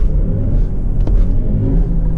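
A BMW iX3 electric SUV accelerates hard, giving a loud, steady low rumble of road and drivetrain noise that holds evenly throughout, with one brief sharper tick midway.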